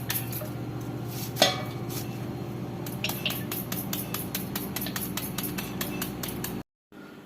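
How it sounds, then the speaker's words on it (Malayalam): Banana stem being finely chopped with a knife on a board, a rapid run of sharp, close chopping taps with one louder clack early on, then a brief cut to silence. "എല്ലാ ഭാഗവും ഇങ്ങനെ കൊത്തി കൊത്തി ചെറുതായിട്ട് അരിഞ്ഞരിഞ്ഞ് കട്ട് ചെയ്ത് കട്ട് ചെയ്ത് എടുക്കണം"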